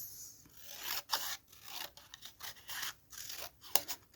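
Paper strip being cut with scissors for a paper-only binding on a small handmade Christmas journal, heard as a run of close, crisp snips and rasping slides repeating unevenly, with no talking.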